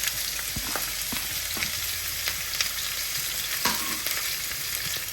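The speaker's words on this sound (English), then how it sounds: "We're going to add the 3 chopped onions into this." Three chopped onions fry in ordinary sunflower oil, a steady loud sizzle with occasional stirring clicks and scrapes. No one speaks, and the sizzle stays close and constant throughout.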